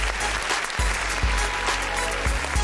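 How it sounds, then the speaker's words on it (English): A crowd claps and cheers continuously, a dense wash of applause with thumping low bursts, sustained through the whole moment. "put y'all hands together for my homie, Sonny Jones."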